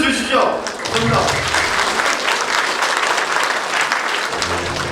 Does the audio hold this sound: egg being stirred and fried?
no